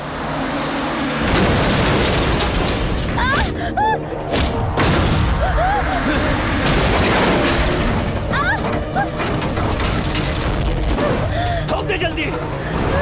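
Explosions in a Hindi-dubbed action film: heavy booms and thuds with rumbling debris and bursts like gunfire, loud and dense throughout, mixed with shouting voices and music.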